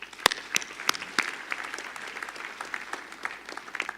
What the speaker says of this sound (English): Let us give them a big clap.